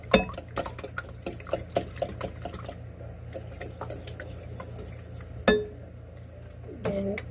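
Egg muffin ingredients being mixed in a bowl, with repeated clinks and scrapes of a utensil against the dish in an irregular rhythm, close and moderately loud, over a steady low hum and occasional talk.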